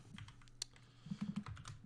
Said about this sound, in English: Typing around my mic is...